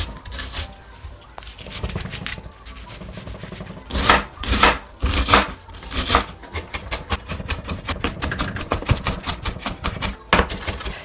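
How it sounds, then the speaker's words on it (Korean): Half an onion being finely chopped with a knife on a wooden board, rapid rhythmic knocks in bursts with short pauses between, close and crisp, with no talking. "양파 반 개가 들어가는데 이것도 잘게 잘게 썰어주시면 됩니다"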